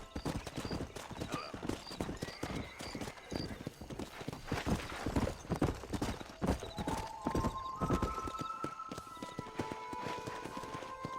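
Horses gallop in Red Dead Redemption with rapid, rhythmic clip-clop hoofbeats over a western soundscape, and a neigh cuts through near the middle, fairly quiet overall with faint voices mixed in.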